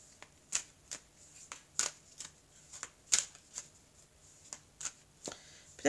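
A deck of oracle cards is shuffled by hand, a run of crisp, close riffling snaps and soft flutters in an irregular rhythm, alone with no speech.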